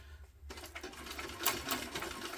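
A sewing machine back stitches a tote bag seam, starting after a brief pause with a close, rapid mechanical whirring and ticking that runs steadily to the end.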